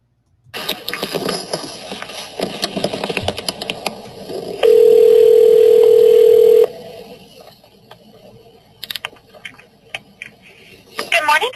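A recorded phone call to a dental office plays over handling clicks and scuffs, then a single steady ringing tone holds for about two seconds before the line goes quiet again, with a voice faintly present.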